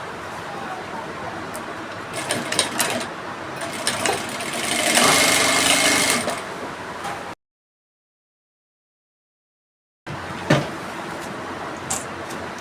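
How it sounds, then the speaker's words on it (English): Sewing machine stitching fabric with an elastic band for an off-shoulder shift dress, a rapid mechanical whir and clatter building over several seconds, then cutting off into silence before brief clicks resume. "let me run a stitch on this stitch here"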